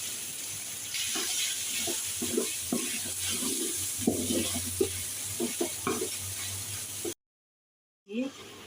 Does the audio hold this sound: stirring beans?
yes